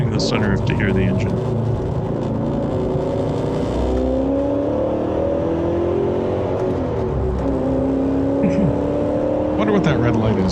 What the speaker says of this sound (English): We're opening the sunroof to hear the engine.